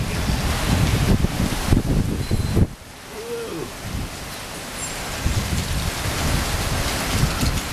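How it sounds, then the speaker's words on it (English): Strong gusty wind of a monsoon dust storm roars and buffets the microphone, dropping briefly to a lull before surging back in heavy rushing bursts. "There's the dust coming in again."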